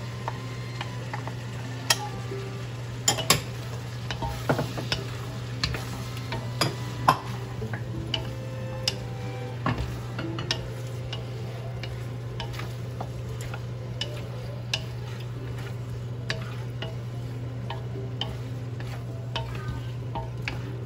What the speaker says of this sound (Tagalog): gisala natin ng konti para magkalasa ng makapitan ng amoy ng bawang